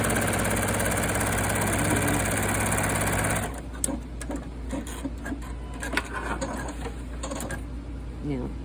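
A sewing machine stitches binding onto a quilt with a steady, fast mechanical whir for about three seconds, then stops, leaving faint handling clicks and rustles.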